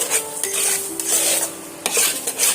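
Pointed gourd with turmeric stir-fried in a pan for a mashed bharta, with a soft sizzle and a few spatula scrapes against the pan, close and alone with no voices.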